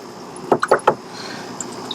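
Four quick taps to call fish at an aquaponics setup, close and fairly loud, evenly spaced in a short burst, against a quiet background with no talking.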